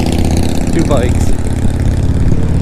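Motorcycle engines, Harleys, rumble loud and steady alongside a riding e-bike on a rough road, a continuous low drone throughout with wind noise.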